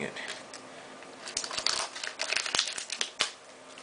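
Plastic wrapping on a Dollar Tree trading card pack is cut and torn open up close, giving sharp crinkling and crackling bursts over a soft rustling bed, with a voice speaking faintly underneath.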